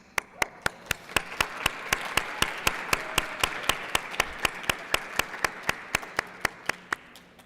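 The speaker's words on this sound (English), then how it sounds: "Oh, yeah, clap. Yeah, clap." An audience at a cathedral Black History Month assembly clapping in steady unison, about four sharp claps per second, fairly close and even in loudness throughout.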